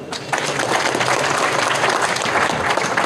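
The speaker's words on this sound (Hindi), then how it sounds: "जोरदार तालियां।" A crowd at a Connaught Place protest rally breaks into loud, dense applause that holds steady without a break for a few seconds.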